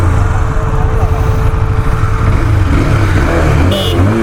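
Bajaj Pulsar 220F and Husqvarna Vitpilen 250 motorcycles launch together in a drag race, their engines a loud, steady roar that builds as they pull away, close up with no one talking.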